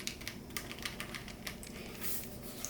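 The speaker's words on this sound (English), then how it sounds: "built a new custom keyboard sent out to me by Acco" Rapid, irregular clacking of keys on a mechanical keyboard, close and fairly quiet, a continuous stream of keystrokes with no voices.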